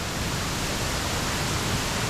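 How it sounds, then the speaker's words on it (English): So Mok Fa Waterfall on the Mae Kam loop in Thailand pours in a steady, dense broadband rush, loud and unbroken, with no voices over it. "So Mok Fa Waterfall, first stop on the Mae Kam loop on the drive to Pai today"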